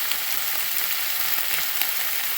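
Steady, continuous sizzling of seasoned chicken sautéing in a hot pan, dense crackle throughout with no pauses and no voices.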